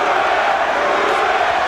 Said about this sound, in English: Crowd enjoying this one